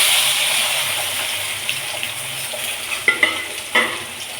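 Cut onions and tomatoes tipped into a hot frying pan of chikkudukaya (broad beans) fry, giving a steady close sizzle with a few sharper pops and stirring clatters toward the end, no voices.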